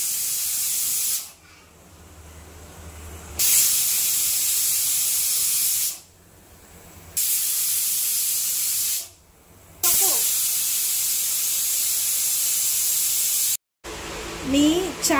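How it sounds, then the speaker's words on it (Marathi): A pressure cooker with aloo matar pulao inside hisses loudly in several long bursts of steam, separated by short quieter pauses, close and harsh. "झाकण लावून घेऊया आता कुकरला. आणि आता ह्याचे मी 2 शिट्या काढून घेणार आहे."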